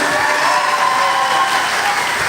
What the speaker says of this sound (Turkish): ona da bir alkış alabilir miyiz?